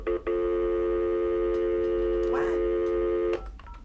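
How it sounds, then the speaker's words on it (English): A telephone places a call and gives a long, steady electronic tone for about three seconds before it cuts off. A brief voice breaks in over it partway through. "let's call Mr. Dennis Sperling"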